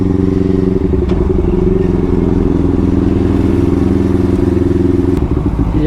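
A CFMOTO 400NK motorcycle engine drones loud and close while overtaking, holding a steady, throbbing hum with rhythmic pulsing and light wind noise.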